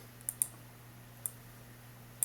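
Sharp computer mouse clicks while curve points are placed in a design program: four quiet, isolated clicks at uneven intervals over a low electrical hum, with no talking.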